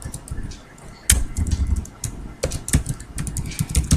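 Keys clatter on a computer keyboard in uneven bursts of close, crisp taps, with short pauses between runs of typing.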